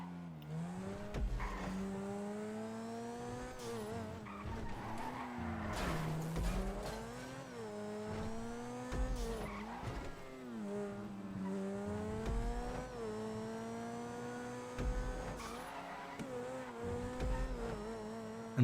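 A Grotti Turismo R supercar in GTA revs through tight U-turns on a test track, engine whine rising and falling with repeated tire squeals and skids, steady and continuous with no talking.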